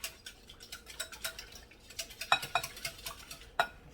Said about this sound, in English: Now, to these eggs, we're going to add a 1/2 cup of milk. Let's go ahead and whisk it in.